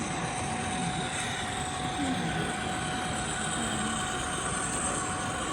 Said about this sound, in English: Oh, this is a different train. CSX Auto Train.